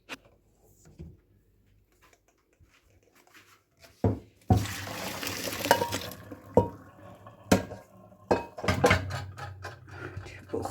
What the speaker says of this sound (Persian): الان آب کش میکنیم.